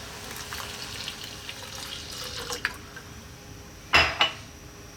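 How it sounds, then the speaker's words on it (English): Milk is poured into spiced masala karak chai made with ginger powder: soft background clinks, then a short, close splashing pour near the end. "And then we're going to add milk."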